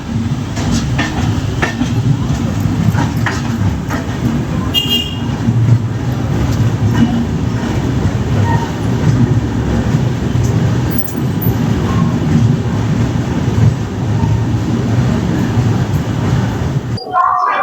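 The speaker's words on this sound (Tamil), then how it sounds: "இங்கே நம்ம வண்டி ஆன் டைமில் பிளாட்ஃபார்ம்குள்ளே வந்துருச்சுங்க" The Pallavan Superfast Express pulls into the platform at Tiruchirappalli Junction with a loud, continuous rumble and clatter of wheels on rails, and a voice speaks over the train noise.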